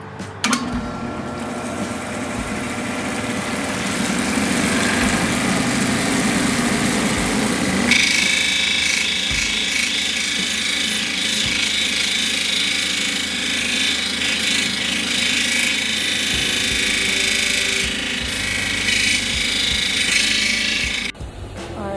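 A Kingsley North 8-inch cabbing machine polishing a Mexican agate, with a loud, steady motor whir and a grinding, whirring wheel sound that shifts in tone partway through and runs mostly uninterrupted.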